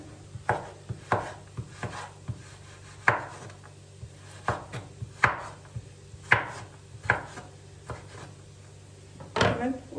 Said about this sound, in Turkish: Zor doğranıyor. Daha doğrusu bıçağım kesmiyor arkadaşlar.